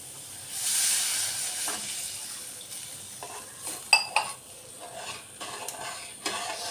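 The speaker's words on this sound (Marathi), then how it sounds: "आणि मी 1 ग्लास गरम पाणी घेतलंय ते टाकते" Hot water poured into sizzling curry masala in a pan for egg curry, a steady hiss and bubbling with a few stirring clinks and scrapes, close and moderately loud.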